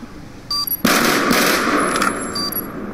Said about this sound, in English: Some nice shots by Trooper right there.